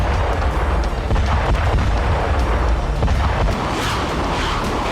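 Explosions from a Russian military attack in Ukraine: a loud, continuous roaring rumble with dense overlapping booms and crackle, heavy and unbroken throughout.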